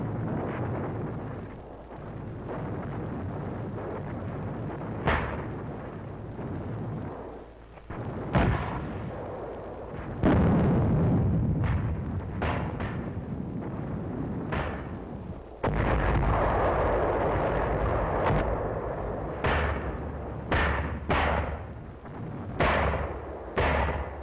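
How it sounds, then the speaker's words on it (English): Mortar and 155 mm artillery fire from the WWII Battle of Angaur thunders in repeated heavy booms and sharp blasts at irregular intervals over a constant low battlefield rumble, with no voices. "We called back for mortars and 155s."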